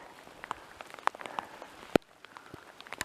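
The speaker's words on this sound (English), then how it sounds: "It's definitely raining steadily." Steady rain falling outdoors beside a meadow and creek during a storm, heard as a soft continuous patter with scattered closer drops tapping nearby surfaces, no voices.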